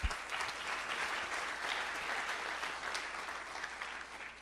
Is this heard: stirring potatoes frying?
no